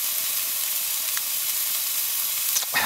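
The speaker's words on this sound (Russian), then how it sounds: "Вкусное жареное сало." Pork fat (salo) fries in a pan outdoors at night, a steady close sizzle and crackle running throughout with a couple of brief sharper pops near the end.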